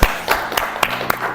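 At a Toastmasters meeting, a few distinct claps ring out at an uneven pace in a room, sounding more like scattered handclaps than a full ovation.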